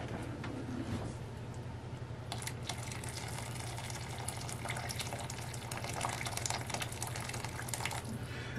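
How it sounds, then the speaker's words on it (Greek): Hot water is poured into a roasting pan of lamb, a steady close stream of splashing liquid running continuously over a low background hum. "Θα βάλουμε λίγο νεράκι τώρα, ζεστό, καυτό."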